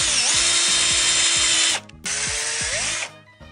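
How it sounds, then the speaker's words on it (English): A power drill drilling a hole whirs loudly up close in two long bursts with a brief pause between, motor pitch steady, then spins down. "Mark out your next hole and drill."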